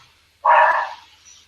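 A single loud, close dog bark rings out after a quiet moment, then fades with a short trailing tail.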